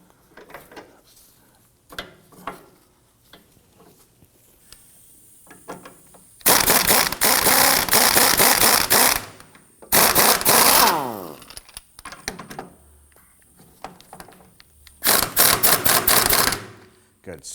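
A nut is threaded onto a front sway bar link on a 2003-2014 Volvo XC90, heard as close bursts of rapid metallic ratcheting and clicking between quieter handling noises.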